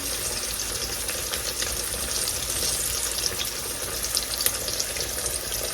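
Pork chops fry in a pan for smothered pork chops, giving a steady, dense, close sizzle that hisses evenly throughout with a few faint pops and no talking.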